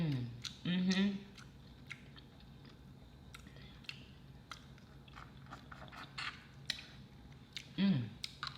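Dungeness crab is chewed close to the mic during a seafood boil mukbang, wet smacking and crunching bites with soft appreciative hums at the start and end.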